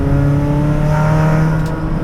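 A Mitsubishi Lancer with a 4G94 engine, a regular luxury car engine never meant for turbocharging, runs in a steady loud rev with a strong droning tone held throughout, with no talk over it.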